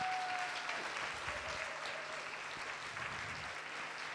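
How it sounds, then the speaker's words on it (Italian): Audience applause at a benefit concert in Italy, a dense, even wash of clapping that carries on steadily throughout, with little talk. "Prego un grandissimo applauso"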